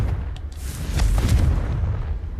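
A Confringo fire spell bursts in Hogwarts Legacy, a heavy booming explosion with deep rumbling low end that swells and lingers for a couple of seconds.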